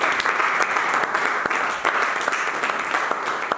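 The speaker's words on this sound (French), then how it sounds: "Acclamez." A church congregation applauds in a dense, continuous burst of clapping that stays loud and even throughout.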